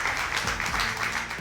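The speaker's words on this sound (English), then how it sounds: "Round of applause for all of you." Audience applause for the teams at an It's Academic quiz playoff, a steady dense wash of clapping filling the room from start to finish without pause.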